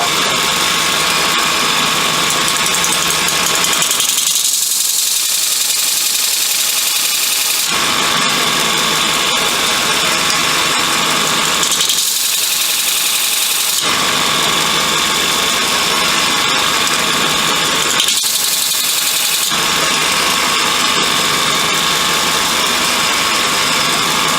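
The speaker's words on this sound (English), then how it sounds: "it's a simple case of switching it on and just putting the marker grind on" A Robert Sorby ProEdge belt sharpener runs loudly and steadily, its motor whine and belt hiss filling the space, with three brief dips in tone as a tool's marker grind is pressed against the belt.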